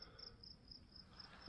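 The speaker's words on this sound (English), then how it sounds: "Crickets and fireworks in the background." Crickets chirp steadily in a dense, continuous outdoor chorus at night in a cemetery, with a faint low rumble of distant fireworks underneath and no voices.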